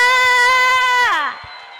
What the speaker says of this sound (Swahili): Shangilia Bwana Yesu kwa makofi na vigelegele kwa Bwana.